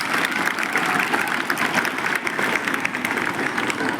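Students and audience at a school lecture in Dariyapur, Amravati clap together in a continuous, moderately loud burst of applause with no talking over it.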